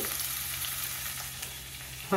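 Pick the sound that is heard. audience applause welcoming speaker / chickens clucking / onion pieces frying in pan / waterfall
onion pieces frying in pan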